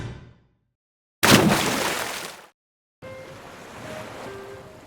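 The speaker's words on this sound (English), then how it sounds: "The river beneath him was violent from the recent storms." Violent storm-swollen river water, heard as loud rushing surges with a sharp cut between bursts, roaring and wind-like, then a lower steady flow with faint tonal traces, no talking.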